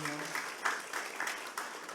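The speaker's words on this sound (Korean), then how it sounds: "박수하겠습니다" A church congregation claps in a faint, uneven burst of applause at a Sunday service, with a voice speaking over it.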